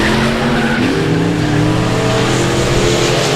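Race cars roar hard into turns three and four at South Texas Speedway, a loud, dense, continuous engine howl with shifting pitch and faint tire squeal, close and steady throughout without audible talking.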